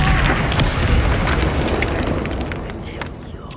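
Bombarda spell explosion in the Hogwarts Legacy video game, a loud booming blast that rolls out and slowly fades, with a voice speaking over it.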